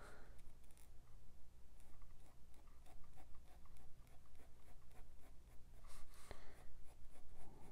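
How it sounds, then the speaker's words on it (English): A Pilot V5 Hi-Techpoint liquid ink pen scratches steadily across paper while drawing a big circle, its close, continuous strokes audible the whole time with no talking. "I'm gonna just draw a big old circle."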